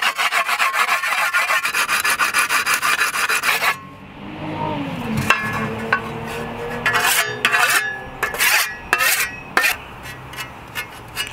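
Whetstone rasping along a 55 cm Italian Falchi scythe blade, a steady dense scraping for the first few seconds, then sparser separate strokes and light taps close by.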